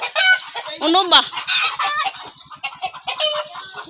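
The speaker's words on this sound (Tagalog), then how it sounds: "Aday, ang manok!" Chickens cluck and squawk close by in a busy, agitated flurry of short calls, with a person's voice briefly speaking among them.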